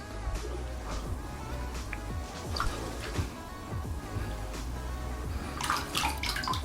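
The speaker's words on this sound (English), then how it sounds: "So if you guys fully submerge it." A Vessi waterproof shoe is pushed fully under water, giving a steady sloshing and splashing with intermittent bubbling bursts, loudest near the end, and no talk.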